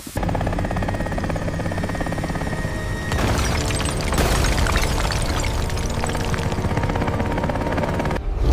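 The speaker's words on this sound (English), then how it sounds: "Helicopter crew, we are ready for extraction." A helicopter touches down for an extraction beside an abandoned monster truck near a volcano, its loud, steady rotor and engine roar filling the scene and swelling midway with heavy rumbling bursts.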